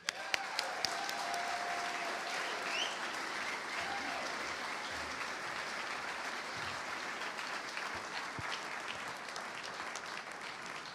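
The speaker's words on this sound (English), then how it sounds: "let's give another round of applause for these two accomplished women that we have here on this stage" Audience applause at the 2023 USBWA basketball awards ceremony in a hall, a steady sustained wash of many hands clapping, moderately distant and even throughout, with no talk over it.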